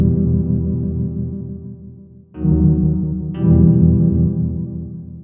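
A Hive software synthesizer patch plays a sustained, harmonically rich tone that steps up twice in loudness and brightness, a steady layered pad-like sound with no talking.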